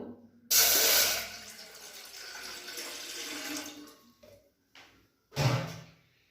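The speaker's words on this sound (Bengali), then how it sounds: "এবার এর মধ্যে আমি জল দিয়ে দেব" Water is poured into a pot on a gas stove to be boiled for rice-flour dough, a loud close splashing stream lasting a few seconds, then a couple of shorter pours after brief pauses.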